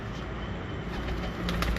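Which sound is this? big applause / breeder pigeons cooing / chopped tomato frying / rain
breeder pigeons cooing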